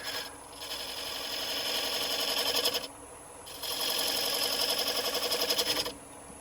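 Spindle gouge cutting into a large live-edge ash bowl on a lathe, giving a loud continuous rasping shear in two long passes separated by a brief lull, with a steady motor hum underneath.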